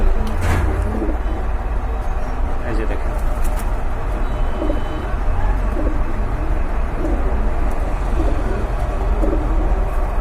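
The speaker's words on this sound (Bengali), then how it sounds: "এখন কিন্তু একজোড়া সিলভার গোটা কবুতর দেখতে পাচ্ছেন" A pair of silver pigeons in a pigeon-selling setting coo softly and repeatedly, with a constant background hum and voices around them.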